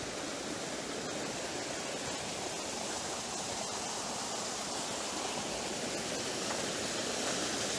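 A river or stream flows in a mountain valley with reeds and bamboo along its banks, a dense, loud, continuous rush of water holding steady with no voices.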